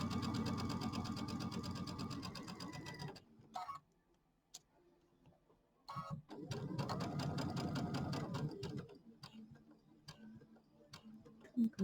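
A sewing machine stitches a quilted bench pad with a rapid, steady clatter for about three seconds, pauses with a few clicks, then runs again for several seconds at close range.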